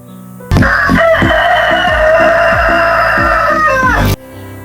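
A rooster crows loudly and close by, a long drawn-out call, with hens clucking rhythmically underneath it throughout.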